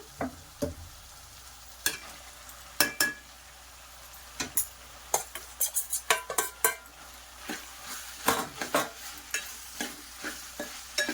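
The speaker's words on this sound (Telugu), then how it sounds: "ఇది ఒక 10 minutes ఫ్రై అవనిద్దాం." Potatoes with ginger-garlic paste and onion fry in a pan with a soft background sizzle, while a spoon scrapes and stirs, clinking against the pan in irregular close bursts.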